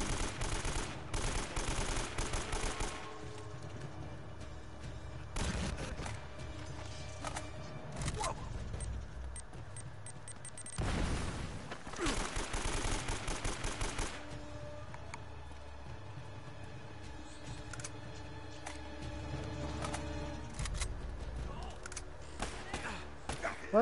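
Gunfire in the action video game Uncharted, bursts of rapid shots and heavy bangs recurring loudly throughout amid game effects and music, with someone talking over parts of it.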